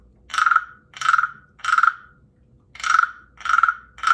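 The smallest wooden frog percussion instrument, scraped with a mallet in six short, bright rasping croaks with a pause midway, higher in pitch, close and isolated.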